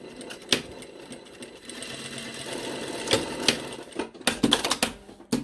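A sewing machine stitches two pieces of fabric together along a 1 cm seam, running in short bursts of quick mechanical rattling, with louder clattering stops and starts toward the end.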